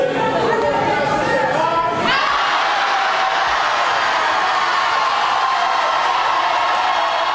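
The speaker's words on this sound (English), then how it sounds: "That is the sound of an auditorium full of Tiffany Henyard opponents rejecting her nomination" Auditorium crowd at a Thornton Township caucus loudly rejecting a supervisor nomination, a dense roar of shouting and chatter that swells after a couple of seconds and holds steady, close and continuous throughout.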